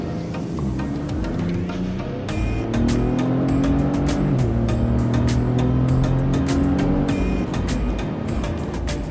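A Ford Raptor truck revs hard at full throttle, a loud, sustained engine roar with rising harmonics and rapid crackling bursts over roughly nine seconds, close to the listener.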